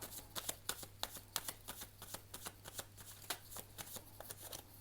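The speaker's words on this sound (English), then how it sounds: "One last shuffle." Rapid riffling of a tarot card deck, a steady run of crisp papery flutters and snaps repeating every fraction of a second, close up with a low hum behind.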